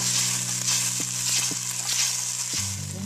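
Risotto simmers in broth in a pan, a constant soft bubbling sizzle with a few spoon knocks and scrapes as it is stirred; near and steady, without talk.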